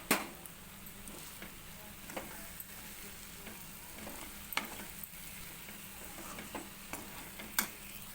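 Boiled eggs stirred into a sizzling spicy masala for egg curry, steady frying hiss broken by repeated clinks and scrapes of a spoon against the pan, fairly close and alone.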